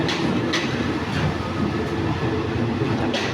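A new locomotive pulls into Phunphin railway station in Surat Thani, Thailand, in the evening, with a loud, steady rolling rumble of wheels and carriages and occasional rhythmic clicks and squeals from the rails.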